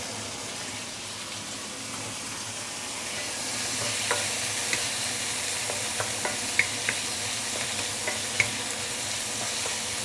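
Pickled mustard greens (giam cai) sautéing in a pan for pickled vegetable fish soup, a soft steady hiss with light clicks of stirring utensils growing more frequent in the second half, no talking.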